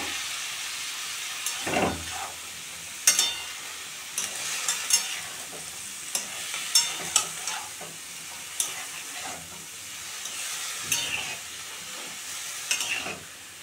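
Vegetables, drumstick stalks among them, fry and sizzle in a pan for a shrimp dish, with a constant soft hiss and repeated scraping knocks of stirring every second or so.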